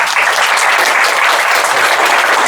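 An audience bursts into loud, sustained applause to welcome a speaker at a Catholic youth talk, a dense wash of clapping held evenly throughout with no voices above it.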